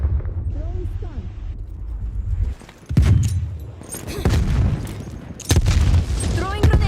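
A stun grenade is thrown and detonates in a video game, with a couple of sharp broadband blasts amid gunfire-like game noise while players keep talking over it.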